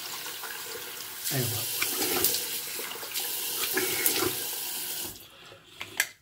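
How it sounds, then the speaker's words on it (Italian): Hot water runs steadily from a bathroom tap into a sink during a traditional wet shave, starting abruptly after a moment and pouring for several seconds before cutting off, with a brief spoken remark. "facciamo scorrere l'acqua calda"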